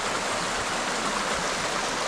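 A river flows steadily nearby, a continuous broadband rush of water with no other sounds.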